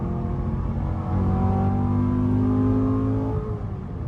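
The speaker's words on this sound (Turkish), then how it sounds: "Ve araba gaza basınca geriye atıyor." A used sports car engine, apparently a Mercedes or Chevrolet with a manual gearbox, revs up steadily as it accelerates, a loud, close, rising engine drone with no talk over it.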